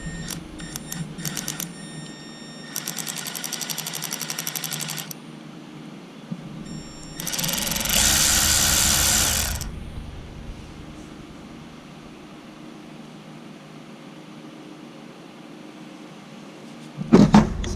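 A Milwaukee M12 cordless ratchet spins its cam fast in several short bursts of high whirring, with a longer, louder run in the middle and quiet gaps between.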